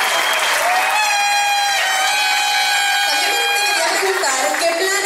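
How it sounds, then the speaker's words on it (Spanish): Audience applause at a beauty gala honoring the singer's parents, loud continuous clapping and some cheering from a crowd, layered under sustained music and a voice. "Un aplauso para ellos,"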